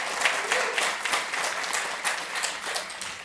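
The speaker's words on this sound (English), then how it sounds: "So let's hear it with a round of applause for our Mozilla India community." An audience at a Mozilla community meeting gives a round of applause, lively clapping with rising and falling swells throughout.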